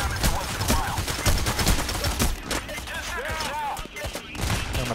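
Video game gunfire during a late-night robbery mission: rapid bursts of shots and fusillades, loud and continuous across the clip, with scattered game effects mixed in.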